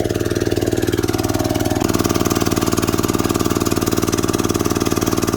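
An old water pump engine chugs steadily in a village after rain, its loud, even rapid pulsing continuing without a break, close by and with no voices.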